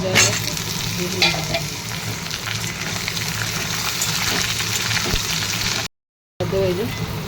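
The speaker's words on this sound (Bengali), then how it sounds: "আলুগুলো ভাজা হয়ে গেছে" Potatoes fry in hot oil with panch phoron and a bay leaf for a banana-flower dish, a steady dense sizzle with repeated scraping stirs close by, cut off briefly by a short gap near the end.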